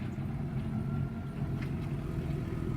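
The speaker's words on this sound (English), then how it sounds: "Apparently some people are really happy over there revving their motors." Motor vehicle engines revving outdoors on a sunny day, a steady low rumble with faint rising revs in the distance, continuous throughout without talk.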